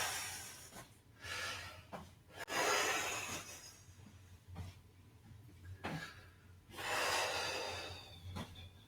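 Slow, deliberate breathing during a shiatsu relaxation session, with several long airy inhales and exhales in an unhurried rhythm, close and audible with no talk.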